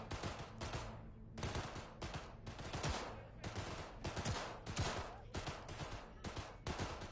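Rapid, continuous gunfire at targets in Cyberpunk 2077, dense repeated shots with short gaps, fairly quiet overall as game audio.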